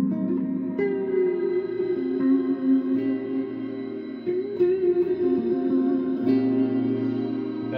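A sustained electric guitar chord through a Fender Marine Layer reverb pedal, drenched in lush reverb and echo, rings out with long shimmering tails, restruck a few times, with no voices.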